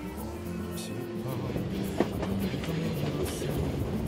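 A V-Train travels through narrow mountain canyons in the Baekdudaegan range, giving off a steady rumble with rail clatter and a sharp click partway through, heard continuously at moderate level.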